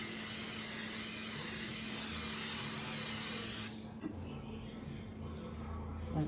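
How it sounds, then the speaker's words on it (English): Olive oil cooking spray is spritzed onto a pan in one sustained, bright hiss lasting nearly four seconds, then it cuts off to quiet kitchen room tone. "Just some olive oil spray."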